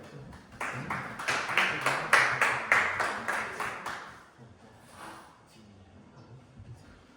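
A church congregation at a year-end fellowship claps in a rising burst of rhythmic applause to welcome a speaker, peaking then fading out after about four seconds, followed by quieter room sound.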